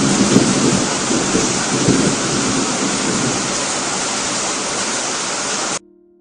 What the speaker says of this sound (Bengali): কিছুক্ষণ পর হঠাৎ বৃষ্টি শুরু হয়ে গেল।